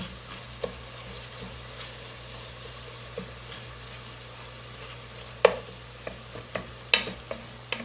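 Vegetables sautéing in a pan for a tuna and noodle dish, a steady quiet sizzle with scattered clicks and scrapes of stirring that grow more frequent toward the end.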